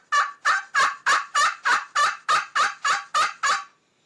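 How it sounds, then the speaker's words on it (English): Wooden striker drawn across a ceramic turkey friction call, producing eleven evenly spaced, loud yelping notes in a quick steady rhythm, then silence. "this is with a wooden striker on this ceramic call"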